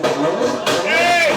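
A voice imitates a sputtering, failing car engine in a short, loud, rough burst that rises in pitch toward the end.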